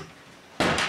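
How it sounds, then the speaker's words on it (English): A sudden heavy thud against a front door, followed by a second knock close behind, loud and near after a quiet stretch with no talk. "Smashing his head in the front door."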